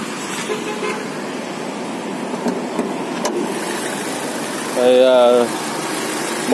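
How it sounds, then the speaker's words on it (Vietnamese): Petrol 1.6-litre engine of a 2009 Chevrolet Lacetti CDX with automatic gearbox idling, a steady low hum throughout with a brief horn-like toot near the end and talk over it. "cùng em đi kiểm tra cái động cơ của cái mẫu Lacetti Series này"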